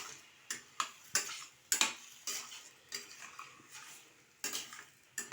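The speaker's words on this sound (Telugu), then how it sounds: "వీటిని బాగా కలుపుకోవాలి. అన్నీ మసాలా బాగా కలిసేటట్టుగా కలుపుకోవాలి." A spoon stirs onions, cowpeas and masala in a pan, giving a series of close, crisp metallic scrapes and clinks at an irregular rhythm with a faint sizzle between strokes.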